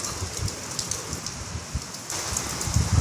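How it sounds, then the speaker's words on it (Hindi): Heavy rain during Cyclone Nisarga in Navi Mumbai pours down as a dense, continuous hiss of water hitting surfaces, steady and close, with a slight swell near the end and no voices. "बहुत हार्ड बारिश गिर रहा है भाऊ, फुल स्मोकी"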